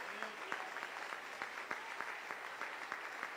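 Church congregation clapping during worship, a steady rhythmic beat of many hands at moderate distance, fairly faint and steady throughout.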